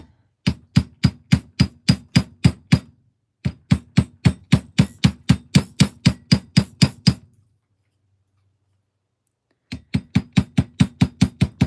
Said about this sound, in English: now I'm going to hammer these guys.